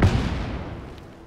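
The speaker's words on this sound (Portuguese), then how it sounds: "também dá para fazer um bombardeamento" One heavy bombardment explosion in Just Cause 3, a loud, booming blast that hits at once and then rumbles and fades away over about a second.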